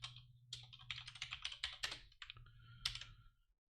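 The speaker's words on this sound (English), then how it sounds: "What keyboard am I using to code?" Keys clack in a quick, uneven burst on a Corsair computer keyboard, a close run of separate strokes with brief pauses, all with no talking.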